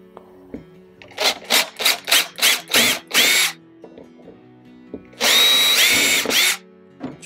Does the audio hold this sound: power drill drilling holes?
yes